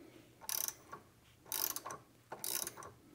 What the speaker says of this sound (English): So I'll break the drain plug free first. I'm going to use the socket for that